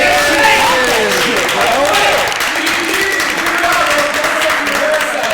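A live audience at a 100th-episode podcast show applauds in a steady, dense wash of clapping that lasts throughout, with people talking and calling out over it.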